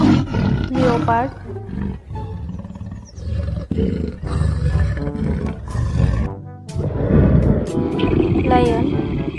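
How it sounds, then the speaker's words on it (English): A leopard roars in a series of loud, rough, rasping calls close by, the bursts separated by brief pauses across the whole stretch. "Leopard."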